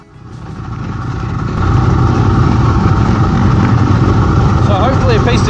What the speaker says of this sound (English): it was time to see how the 220 plus kg Tenere 700 goes on the trails